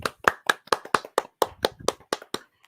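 Sharp handclaps ring out at a steady pace, about a dozen distinct claps from a small group or single person, close and clear with no talk over them.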